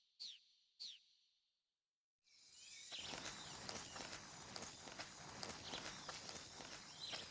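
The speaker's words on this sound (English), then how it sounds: "Footsteps." Footsteps in Metal Gear Solid 3: Snake Eater, a steady run of soft crunching steps over a constant ambient hiss, preceded by two brief sharp chirps and a moment of silence.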